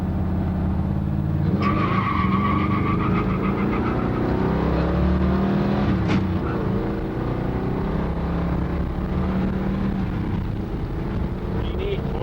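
Ford Edsel engine running on the move, a loud steady roar with shifting pitch as it pulls, a faint rattle from the heat riser, and occasional voices talking over it.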